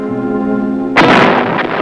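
Artillery fire supporting airmobile cavalry troops lands as one sudden, loud, broad boom with a rumbling tail. Before it comes a steady tonal drone, likely aircraft or music.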